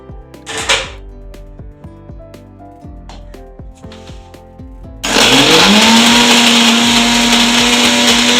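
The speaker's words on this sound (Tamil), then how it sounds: "மிக்சியில் போட்டு அரைச்சிடணும்." After some clinks and light clatter, a mixer grinder starts abruptly and grinds curry leaves, garlic and spices loudly and steadily for several seconds, whining at a constant pitch.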